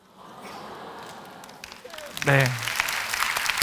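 Applause rises from a church audience, building from a soft patter into a fuller round of clapping, with a voice speaking briefly over it partway through.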